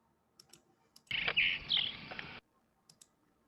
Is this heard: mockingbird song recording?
yes